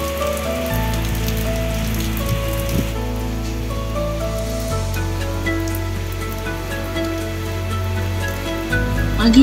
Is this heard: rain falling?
yes